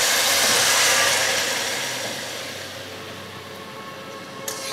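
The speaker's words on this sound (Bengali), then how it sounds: "দেখো চাটনিটা ফুটতে শুরু করেছে।" Bottle gourd chutney with mango juice boils in a pan, giving a steady, loud broadband hiss that slowly fades and settles to a softer simmer, with no talking.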